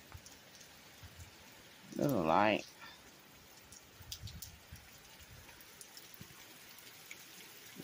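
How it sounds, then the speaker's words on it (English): Light morning rain falls outside with wind blowing, a soft continuous patter with scattered nearby drops; a person briefly speaks early on over the rain. "The wind's blowing and it's raining this morning"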